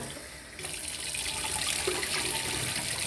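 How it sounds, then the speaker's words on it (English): Water runs steadily from a tap into a sink for washing rice, starting softer, then splashing louder and fuller after a moment and continuing without pause. "the rice, we just keep washing until the water is clear"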